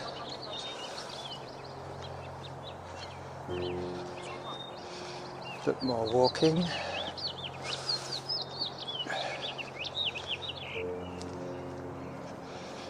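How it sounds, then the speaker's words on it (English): Birds chirp and sing in the morning air along a gorge waterway, several calls scattered throughout, with running footsteps and a brief spoken remark partway through. "You can hear the birds. I hope you can hear the birds."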